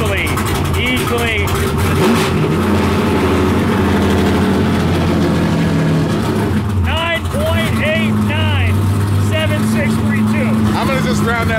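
A naturally aspirated V8 in an 850hp Nissan S15 drift car roars loudly, revving up and down in repeated sweeping pulls, with a voice heard briefly over the engine.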